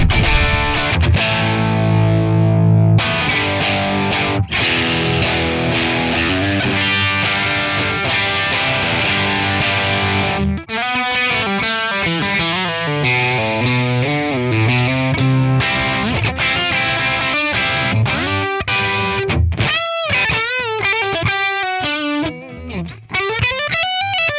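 Heavy, saturated electric guitar with thick high-gain distortion, chords ringing and chugging, then choppier riffs and sustained notes, loud and continuous with no talking.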